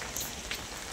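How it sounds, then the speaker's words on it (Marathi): Heavy rain falls as a soft, even hiss of drops on surfaces with a few brighter spatters, quiet and steady throughout, with no one talking. "पाऊस गोंधळच घातलाय नुसता पावसानं"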